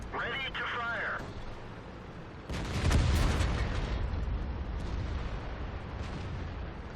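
A World of Tanks cannon fires with a sudden heavy boom midway, followed by a rolling rumble and battle noise; a short radio-style voice cue is heard before the shot.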